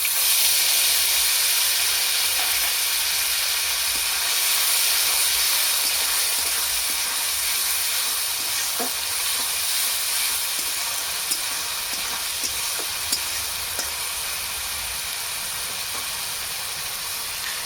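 Dried red chillies, a bay leaf, three cardamom pods, whole cumin and cloves frying with onion paste for an egg korma: a steady, bright sizzle and hiss that continues evenly throughout.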